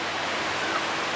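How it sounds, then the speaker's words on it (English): A tall waterfall at Kinjang, an indigenous settlement, roughly twenty stories high, pours as a steady broadband roar of falling water, constant and fairly close with no other sounds. "That's how high the waterfall is."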